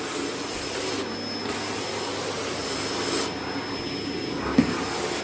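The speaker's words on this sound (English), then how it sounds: "I don't know if you guys can hear me over the sound of the hoover." A vacuum cleaner drones steadily and loudly indoors throughout, its pitch shifting slightly as it moves, with a brief bump near the end.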